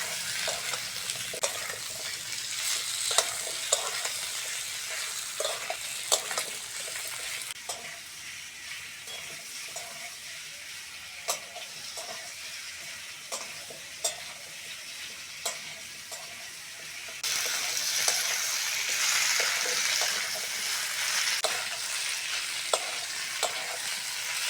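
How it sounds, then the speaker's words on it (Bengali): Pointed gourd, potato and onion fry steadily in a pan. The close, continuous sizzle is punctuated by frequent clicks and scrapes of a stirring spatula and grows louder toward the end. "পেঁয়াজের সঙ্গে পটল আলুটা ভালো করে ভেজে নেব।"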